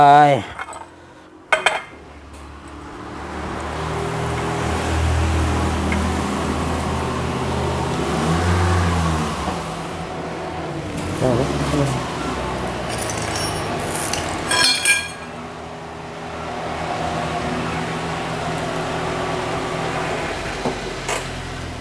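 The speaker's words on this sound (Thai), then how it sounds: "ก็เอาไขควงยัดใส่เหมือนเดิมนะครับ" A screwdriver presses bushings into a part of a Honda GX35 mower, making metallic clinks, scrapes and knocks that come and go over a dense, steady mechanical rumble.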